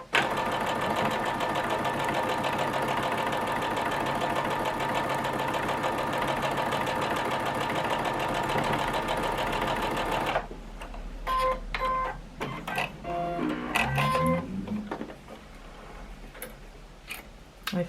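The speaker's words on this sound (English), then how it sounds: "sewing machine needs a little bit of a clean, because it's not cutting the thread." A sewing machine runs fast and steady, stitching a quilt seam with a continuous close whirring hum for about ten seconds, then stops and gives way to scattered clicks, clunks and small mechanical adjustments.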